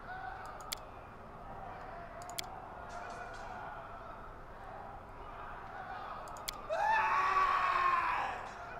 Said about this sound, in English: Yeah, I heard that scream.